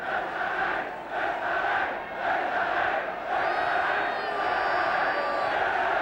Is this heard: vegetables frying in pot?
no